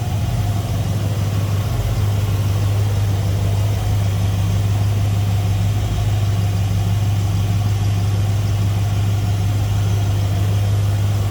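A 1960 Cadillac Series 62 convertible V8 with a new Edelbrock four-barrel carburetor idles smoothly and steadily, a loud, close, constant low rumble with no voices.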